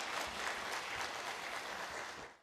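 A church congregation claps together in dense, sustained applause during a Friday worship service, loud and steady at first and then fading out near the end, with no talking over it.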